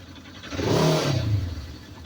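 A Polaris Ranger 900 Crew utility vehicle engine catches and runs after cranking, a brief close revving whir that swells and fades over about two seconds.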